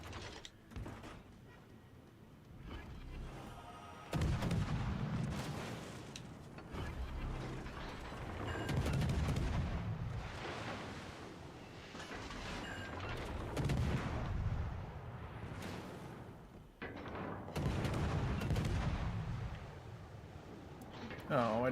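Naval gunfire in World of Warships: Legends, with repeated booming salvos and mechanical clanks over a steady rumble of battle noise, moderately loud throughout.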